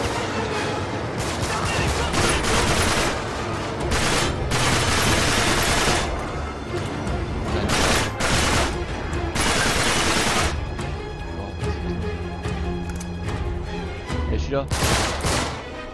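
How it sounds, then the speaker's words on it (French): Sustained machine gun fire in an Uncharted 3 firefight, with loud, dense volleys hammering almost continuously alongside explosions and a brief spoken line. "j'ai tiré je sais pas combien de balles de mitrailleuse là"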